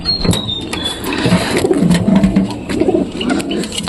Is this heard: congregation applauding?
no